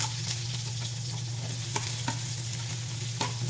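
Garlic, onion and young corn sautéing in hot oil for a mushroom chopsuey, a steady dense sizzle up close with a few sharp pops and stirring clicks, no talking.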